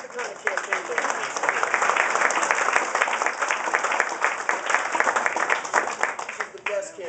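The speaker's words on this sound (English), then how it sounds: "I want you to clap for Kay" A crowd at a political campaign event for a House District 56 candidate bursts into steady, dense applause that holds strong for about seven seconds before thinning slightly at the end.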